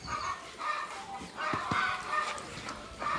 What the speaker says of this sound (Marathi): ते कोंबडीने अंडी घातले त्यामुळे कोंबड्या ओरडायले